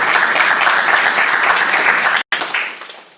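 Lecture audience applauding at the start of a talk, a dense, loud, steady wash of clapping that breaks off abruptly near the end, then trails back in more thinly.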